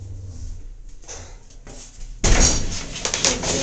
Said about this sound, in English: close the door firmly